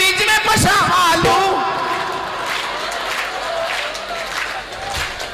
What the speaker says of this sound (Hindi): जोरदार ताली चल रही है